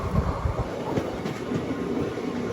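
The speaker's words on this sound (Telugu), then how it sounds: "ఆగదు మన ట్రైన్, స్కిప్ కొడుతుంది" A passenger train on the Kakinada to Mysore special service rolls through Penukonda junction without stopping, heard from on board as a steady, loud rumble with wheel clatter and no talking.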